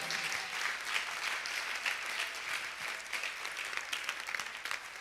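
Sustained applause from a church congregation, a thick wash of rapid clapping that holds at an even level for several seconds.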